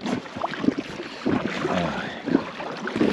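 A kayak is paddled along the shore of Lake Wigry in wind, with rhythmic paddle strokes and water splashes recurring about every second under gusty wind noise.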